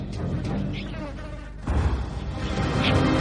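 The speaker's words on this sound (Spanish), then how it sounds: "El olor de la fermentación de la fruta, demasiado madura, atrae a las moscas de la fruta." Fruit flies and blowflies drone around overripe, fermenting fruit and rotting food, a close, wavering buzz that swells and fades as insects pass, with a louder, denser stretch in the second half.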